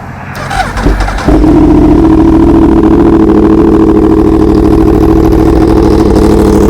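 A Yamaha R1 motorcycle fitted with full Sparks titanium headers and an SC Project slip-on exhaust, revving briefly, then holding a loud, steady, close engine drone at high revs with no talking.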